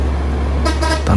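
A tour bus with no passengers goes by on the Sitinjau Lauik mountain road, giving a loud horn blast in the final half second over a steady engine rumble.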